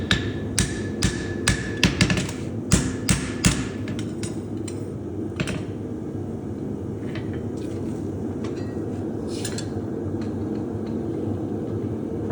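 Sharp, ringing metal-on-metal hammer blows shape a horseshoe on an anvil horn in a quick series, then come more sparsely over a steady low rumble.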